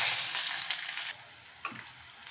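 Onions with cumin and bay leaf frying in a pan, a bright loud sizzle that drops sharply to a quieter crackle partway through, then a brief stirring knock.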